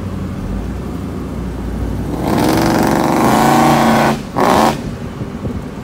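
A 1995 Jaguar XJS pulls away, its engine rising in a loud, building drone that rolls on with a brief dip near the end, heard from inside the car without talk.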